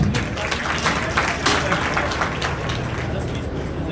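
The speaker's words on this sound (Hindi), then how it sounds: "उनके लिए कृपया जोरदार तालियां हो जाए" An audience at a community award ceremony in Julana applauds steadily, a dense wash of clapping mixed with crowd murmur and some voices.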